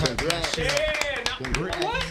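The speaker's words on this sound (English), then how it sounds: "Clap that shit up." Hands clap in a quick, fairly regular rhythm beneath a loud, close voice that talks over the claps the whole time.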